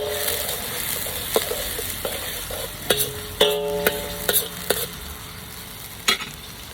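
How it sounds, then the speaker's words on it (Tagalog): Garlic and onion frying together in a pan on a home stove, a steady background sizzle broken by several sharp utensil clinks and scrapes spread unevenly through the clip, with no talking. "Nilunod ko na ang bawang at sibuyas."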